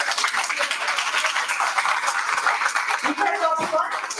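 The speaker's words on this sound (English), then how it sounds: "Let's welcome Dr. Vishnupriya ma'am with a huge round of applause." An audience applauds a speaker at a life sciences research conference, a dense, steady round of clapping that continues throughout, with some voices mixed in near the end.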